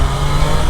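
A 2024 Triumph Daytona 660 motorcycle engine, loud and close, drones briefly through a downshift, with a rough, steady motor roar and no talking.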